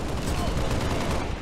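Dense, continuous gunfire from a Halo Reach campaign battle, with rapid overlapping shots and explosions filling the brief stretch at a steady, loud level.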